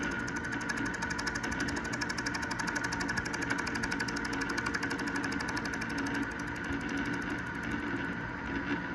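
A lathe cutting tool facing across a metal part: a steady, loud, continuous machining drone with dense buzzing texture, holding evenly throughout with no talk.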